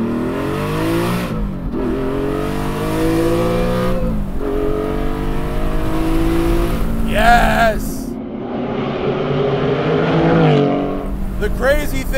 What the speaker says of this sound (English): The crazy thing about this car is that it just doesn't sound like any other Porsche.